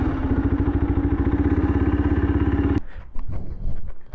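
A motorcycle engine idles with a fast, even chugging pulse, then cuts out, followed by clattering thumps and scrapes as the bike is moved indoors.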